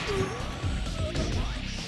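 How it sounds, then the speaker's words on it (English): In a Yakuza 3 street fight, an enemy is smacked into a car with a loud crash and thwacking hits, mixed with game background noise and brief voices. "Can I smack you into this car or something?"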